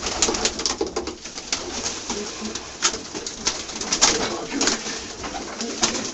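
Several homing pigeons coo softly and continuously nearby in a loft, with occasional flutters and small knocks in the enclosed space.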